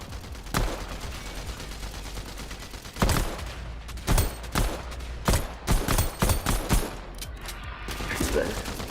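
Shotgun blasts in Fortnite, a series of loud, sharp booms in irregular bursts, with one isolated shot early followed by a denser cluster of rapid shots amid game ambience.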